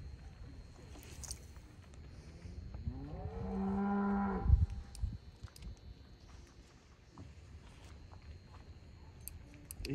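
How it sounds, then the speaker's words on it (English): A single long, low cow moo swells and fades in the middle, with quieter outdoor background and faint shuffling before and after. "hearing all the cows moo at the same time"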